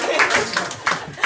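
Audience at a French comedy improv show claps for a volunteer, a short burst of close, loud hand claps with uneven bursts under a little chatter.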